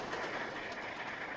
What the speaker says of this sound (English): Was that a Britannia class train?